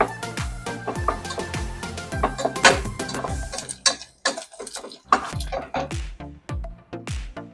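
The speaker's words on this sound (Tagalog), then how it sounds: "Kailangan din po natin hugasan ang rice natin." Rice being rinsed by hand in a cooking pot, with a close, steady clatter of grains and water knocking against the pot walls and irregular sharp clicks and rattles throughout.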